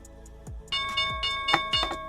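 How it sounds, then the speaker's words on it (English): A stock market opening bell chimes in several bright, ringing strokes with sustained tones, following a few low thumps, heard during a live day-trading broadcast. "There is the opening bell."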